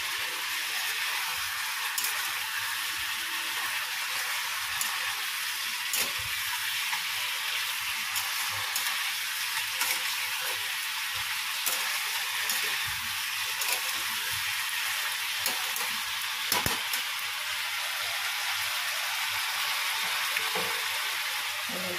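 Fish head curry masala sizzles steadily in a pan after a splash of hot water, a broad continuous frying hiss with faint scattered crackles and stirring ticks, close and even throughout, with no talking.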